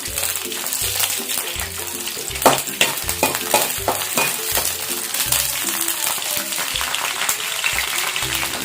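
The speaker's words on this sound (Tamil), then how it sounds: "இப்போது இதை நல்லா வதக்கணும், கொஞ்சம் கலர் சேஞ்ச் ஆகணும்." Green chillies sautéing in a pan for thoothuvalai pickle, a steady close sizzle broken by repeated scraping stirs and clinks of a spoon against the pan, with faint tonal music underneath.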